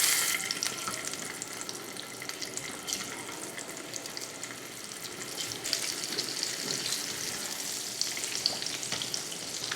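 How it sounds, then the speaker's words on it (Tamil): Eggs fry in hot oil seasoned with salt and turmeric, a steady close sizzle with crackling spatter running throughout and no talking. "எண்ணெய் ஊற்றினதுமே உப்பு, கொஞ்சம் மஞ்சள் தூள், இப்போ முட்டையை இதில் வறுத்து எடுத்துக்கலாம்."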